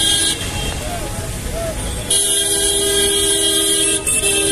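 Busy street traffic near Dhanbad station in India rumbles past nearby, with repeated honks and a loud sustained horn blaring over engine noise while someone speaks.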